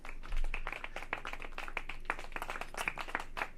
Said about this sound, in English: Hey, clap it up for those people.